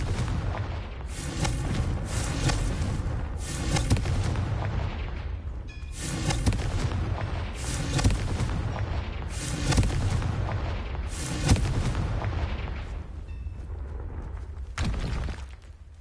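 Confringo spell explosions in the video game Hogwarts Legacy burst out one after another, about eight loud booming blasts at roughly two-second intervals, each decaying into crackling rumble.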